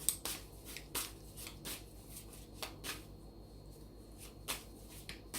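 Tarot cards are shuffled close up in quiet, repeated riffling and slapping bursts, with soft handling sounds in between.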